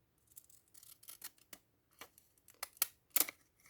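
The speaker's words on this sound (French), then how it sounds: "Alors, je vais peut-être prendre ces ciseaux." Scissors cutting paper for a bullet journal craft, a series of crisp, irregular snips close up, some quick pairs and louder single cuts, with quiet gaps between.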